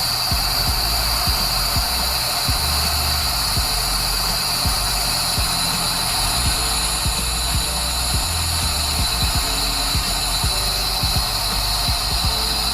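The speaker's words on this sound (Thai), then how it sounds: "อันนี้เสียง เสียงเครื่องยนต์เฉย" A BMW E30 car engine idles steadily with the air conditioning off and its fan stopped, a low rhythmic throb with a constant high whine over it, no voices.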